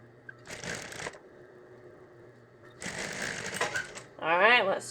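A sewing machine stitches straight across a hooded towel, back-stitching at each end: two short bursts of stitching split by a pause, with a brief voice right at the end.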